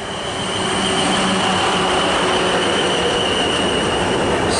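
A five-car Southwestern Railway class 444 electric train pulls away from Southampton Airport Parkway on the South Western Main Line, a steady loud rumble and hum with a high whine, building slightly and held throughout with no talk.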